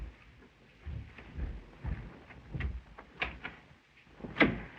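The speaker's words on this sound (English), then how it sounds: "The door." A door in an old 1929 mystery film soundtrack, heard as a scattering of faint, muffled thumps and knocks at irregular intervals over a hissy background.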